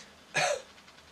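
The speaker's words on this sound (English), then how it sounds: "Cough." A single short, sharp cough, fairly close and moderately loud, with quiet room tone around it.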